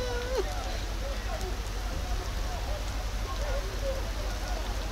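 Rain falls steadily during an outdoor amateur football match, a dense even patter with low rumble beneath, while a few distant voices and whistles sound faintly.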